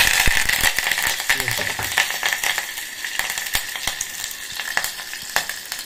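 Cumin seeds and curry leaves sizzle and crackle in hot oil in a pan for a drumstick egg masala curry, with a steady bright frying hiss and scattered sharp pops and spatters, while a voice speaks over it.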